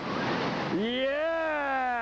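Whitewater rapids at the Double Hydraulics on the Youghiogheny River roar as a close, rushing wash, then a loud shouting voice takes over above the churning water.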